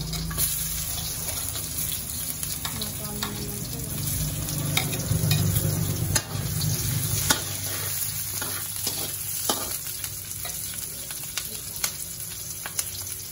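Garlic and large crab sauté in a wok for a monggo dish. A busy, continuous sizzle runs throughout, broken by frequent scraping and clanking of a spatula against the pan, with occasional quiet speech.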